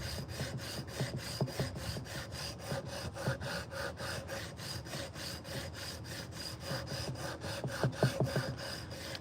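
A hand saw cuts through wood during spoon carving, giving steady, rapid rhythmic back-and-forth strokes that stay close and fairly loud throughout, with no talking.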